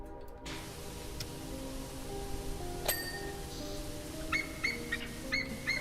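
A bird in a powerwashing video game calls out over game music, with a string of short chirpy honks and bell-like peeps repeating toward the end of a steady background.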